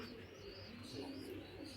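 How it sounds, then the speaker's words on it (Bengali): A racing pigeon gives soft, low cooing close by, quiet and continuous over a brief moment with no voices. "এটা আমার ভাগ্যের কবুতর"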